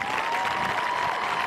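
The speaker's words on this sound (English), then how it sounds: "How about a huge round of applause for KEONDRE's family?" A crowd applauds at a high school football game, a dense wash of clapping and faint cheering heard from a distance.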